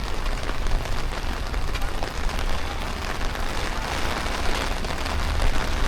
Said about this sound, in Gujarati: વરસાદ પણ ફૂલ ચાલુ થઈ ગયો છે.